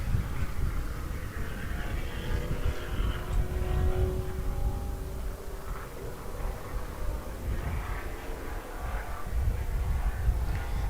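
Race cars circling the Sebring track, a continuous distant engine drone with faint whining tones rising and falling as the cars pass around the back of the circuit, no talk.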